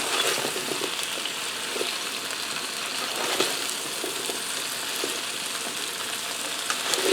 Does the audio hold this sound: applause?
no